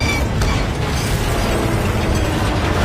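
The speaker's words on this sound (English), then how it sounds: "With a loud boom, the transport vehicle immediately lost power" An electromagnetic bomb bursts against an Imperial transport vehicle, a loud, dense rumbling roar with mechanical clatter that fills the whole stretch without pause.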